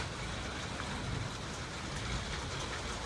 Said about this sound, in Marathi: पावसाला आहे बघा.